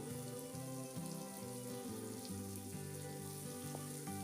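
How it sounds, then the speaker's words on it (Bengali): Chopped onion, added to garlic already fried, being stirred and lightly fried in a pan, giving a steady soft hiss that runs beneath louder background music. "পেঁয়াজটা দিয়ে আমি এবার নাড়াচাড়া করে পেঁয়াজটা হালকা করে ভেজে নেব"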